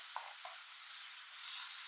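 Potatoes and carrots frying in a pan with browned onions and chillies for a spiceless vegetable dish, a steady soft sizzle with a couple of faint stirring knocks near the start.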